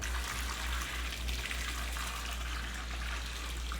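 Water pours steadily into a tub, a continuous close rush and splash with a low rumble underneath, heard alone without talk.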